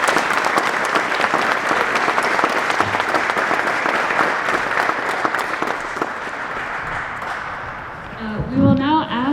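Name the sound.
round of applause at graduation ceremony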